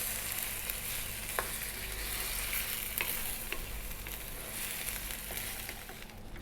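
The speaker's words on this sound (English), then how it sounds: "Give it a stir every now and then." Baked bean sauce simmers and bubbles in a pan, with steady broadband cooking noise and occasional scrapes of a spoon stirring through it. No one speaks.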